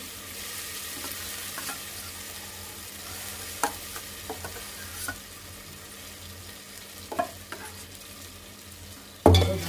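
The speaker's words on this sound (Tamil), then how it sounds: "ரெண்டு பேருக்கு தான் கிளறி போடுறேன்" A spoon stirs curd rice in a pan, producing a quiet steady hiss with occasional soft scrapes and taps and a sharper knock right at the end, no voices.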